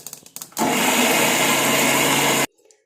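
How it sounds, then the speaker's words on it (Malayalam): A mixer grinder whirs loudly for about two seconds while grinding ginger and spices for fish curry, starting abruptly after a few short clicks and stopping cleanly. "ഇഞ്ചി ഇട്ട് ഞാനൊന്ന് കറക്കിയതാണ് അല്ലെങ്കിൽ ചിലപ്പോൾ ഇഞ്ചി അരയില്ല അതുകൊണ്ട് നമുക്കിനി അരയ്ക്കാം"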